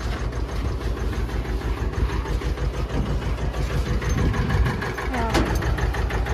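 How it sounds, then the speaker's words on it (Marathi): A tractor engine idles with a low, steady throb before a farm ride, with background voices talking over it. "तर ट्रॅक्टर राईड आता चालू करणार"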